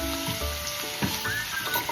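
Chopped onions sizzle steadily in a pan while being fried for veg hakka noodles, a close, continuous crackle with a few soft stirring scrapes and no voices.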